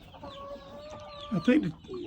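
A few chickens clucking nearby on a farm, with a short burst of louder squawking clucks toward the end and faint background voices.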